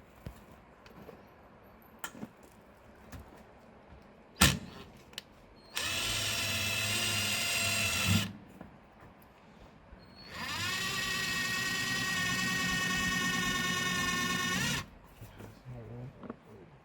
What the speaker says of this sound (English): we're just screwing these into the post of the deck that we already had here